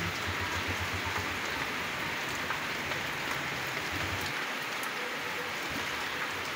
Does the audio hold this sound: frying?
no